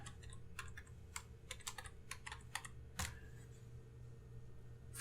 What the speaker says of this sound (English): click there, and start typing my text